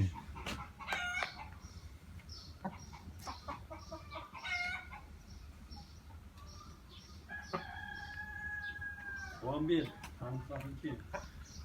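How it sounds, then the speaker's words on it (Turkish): A rooster crows once mid-clip, a clear drawn-out call, amid scattered clucking and other bird calls, with people talking nearby over steady background noise. "Güzellikte bir horoz."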